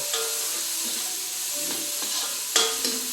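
Sardines are dropped into a pan with crushed pepper and sauté with a soft, steady sizzle, broken by a few stirring clinks and a brief louder scrape near the end.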